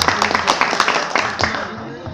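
An audience at a live stage show with songs and mimicry claps for a performer, a dense burst of hand claps close by that thins out and fades toward the end.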